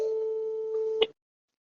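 A telephone ringing tone plays as a steady, clear tone held for about a second before a click cuts it off when the call is answered, followed by silence.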